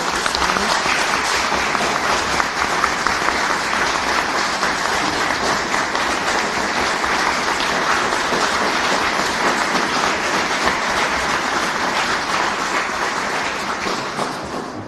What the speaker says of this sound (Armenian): կխնդրեմ ծափահարենք Վարուժան Ավետիսյանին